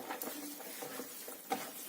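Soft, wet squishing and patting as minced meat for kebab is kneaded by hand, quiet and close, with irregular squelches and a slightly sharper pat near the end.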